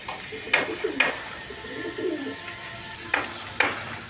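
A pair of Indian Bombay pigeons coo in several distinct bursts, close and moderately loud, with quieter cooing between them.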